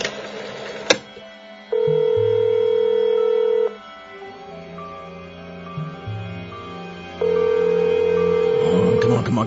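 An office telephone rings in a comedy radio drama, with steady electronic ring bursts repeating at a moderate level over low background music and effects.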